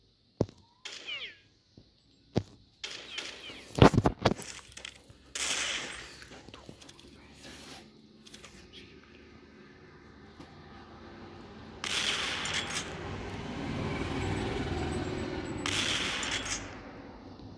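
Bursts of automatic rifle fire in a Minecraft game, loud sharp volleys early on, then a quieter rumble and a longer sustained crackle of firing later, with some voice-like sounds mixed in.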